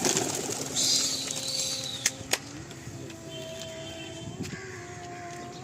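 Pigeons let out of a loft for flight, with a flurry of wing flaps and faint cooing and calls from other birds in an outdoor setting, plus a couple of sharp knocks.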